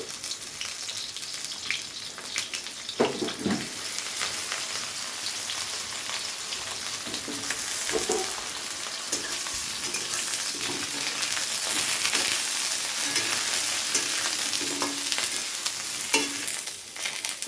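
Eggplant pieces fry in hot oil in a pan with a constant close hiss, broken by occasional soft clunks of a spatula turning them.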